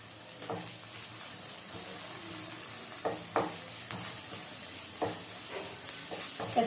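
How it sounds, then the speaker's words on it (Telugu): Ginger garlic paste sizzles in hot oil in a pan while being stirred for a gongura chicken curry. A steady frying hiss runs throughout, broken by several sharp spatula scrapes and knocks. "అల్లం వెల్లుల్లి పేస్ట్ వేసుకున్న తర్వాత ఒకసారి మొత్తం కలుపుకొని కొంచెం పచ్చివాసన పోయేంత వరకు వేయించుకోవాలి"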